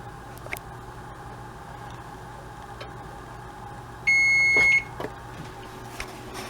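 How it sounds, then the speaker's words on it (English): A single electronic oven timer beep sounds for about a second in a kitchen, a clear steady tone over quiet room hum, with faint clicks around it. "That beeper means it's time to get this out."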